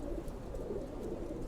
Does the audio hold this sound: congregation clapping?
no